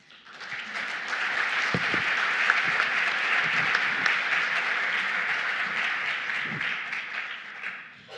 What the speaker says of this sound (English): ask you to give an applause